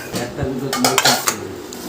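Rice being served onto plates in a home kitchen, a quick burst of close ceramic and metal clatter with a few sharp clinks and scrapes.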